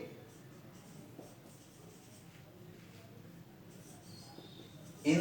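Chalk or marker scratching out a sentence on a classroom board in a soft, continuous scrape with small pauses, faint and close, ending in a louder tap.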